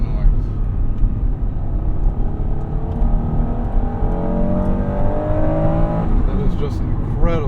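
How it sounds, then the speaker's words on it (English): A 1996 Acura NSX-T under way gives off a loud, continuous engine and exhaust drone with induction noise, its pitch climbing steadily through the revs before easing off near the end, with a voice speaking over the top. "Can you guys believe that exhaust noise?"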